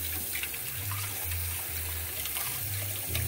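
Tap water runs steadily and close by while juicer parts are rinsed in a sink, a continuous splashing gush with small fluctuations.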